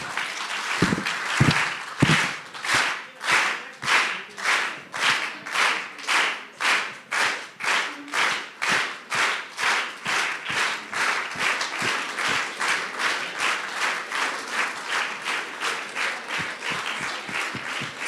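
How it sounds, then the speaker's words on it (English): Auditorium audience doing a slow clap, starting as scattered claps that lock into a steady, evenly spaced rhythm of loud, crisp group claps, gradually quickening slightly and continuing for the whole stretch without talk. "let's slow clap them out"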